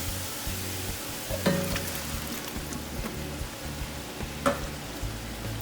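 Crushed tomatoes poured onto browned deer and pork meat in a pan, a soft continuous sizzle and bubbling with a couple of sharp clinks from a utensil, no voices.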